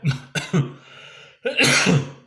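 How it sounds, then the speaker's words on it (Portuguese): A man coughs several times in quick, harsh bursts close to the microphone, a short cluster of coughs, a brief pause, then a longer rough coughing fit. "me perdoe que eu ainda estou com uma tosse ainda que não consegui ser curado"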